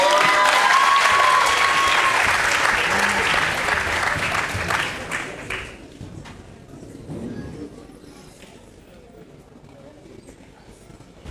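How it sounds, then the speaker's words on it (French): Loud audience applause with scattered cheers at a festival show, fading out after several seconds into quieter room noise and a murmur of voices. "On applaudit très très fort."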